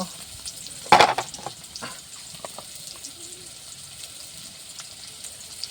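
Curry spices sautéing in a pan for a taro and egg curry, a low steady sizzle with a sharp clatter of stirring near the start and a few lighter scrapes after, no talk.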